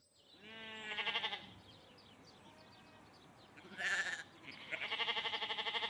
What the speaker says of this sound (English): As we graze sheep under the panels, they seem to be quite happy